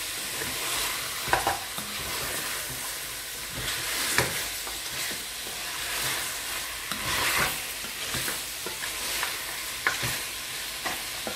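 Meat grilling in a pan while preparing Central African koko with peanut paste, a steady sizzling and frying hiss with intermittent scraping stir sounds, close and continuous.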